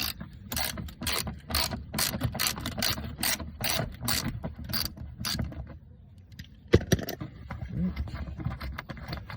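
A hand ratchet clicks in quick repeated bursts while loosening bolts on a panel of a 1998-2002 Mercedes-Benz E320 W210 during a radiator replacement, close and crisp, with a short pause and a sharp knock near the end.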